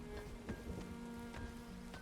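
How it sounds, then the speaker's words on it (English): Rain falls steadily in the city-building game Farthest Frontier, a soft continuous patter of drops at low level with a faint tonal hum beneath and no talking. "But Gnabbers, it's raining."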